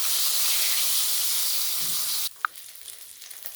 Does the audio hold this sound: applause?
no